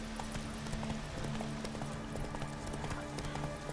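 Horse hooves clip-clop in a steady walking rhythm in The Witcher 3, quiet and close, over a soft game background hum.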